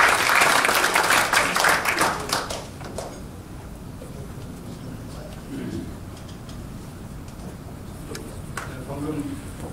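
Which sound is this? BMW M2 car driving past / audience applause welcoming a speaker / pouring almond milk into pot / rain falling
audience applause welcoming a speaker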